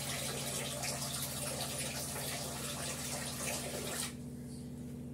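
Dishes are washed in a kitchen under a running tap, giving a steady close rush of water with faint clinks, which softens and thins near the end.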